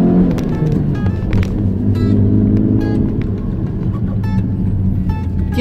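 A 2022 Jetour X70 SUV climbing a slope, its engine a steady low rumble from inside the cabin with faint intermittent ticks and clicks above it.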